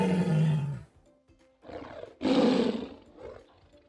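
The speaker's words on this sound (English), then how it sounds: "Tiger," A tiger gives a deep, throaty roar up close, a long loud growl followed by a short pause and then two more powerful roaring bursts that fade out, with no voices.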